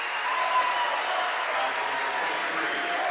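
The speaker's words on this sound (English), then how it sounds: "Minster fans like it as they clap this ball handling as Ivy Wolf will be fouled." Basketball fans clap and cheer in a high school gym, a dense, steady wash of applause filling the whole stretch at close range.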